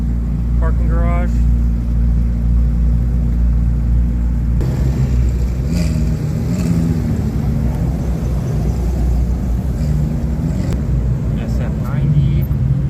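A Porsche pulls out of a parking garage at a car show, its engine a loud, close low rumble that swells and echoes as it leaves, with voices talking over it.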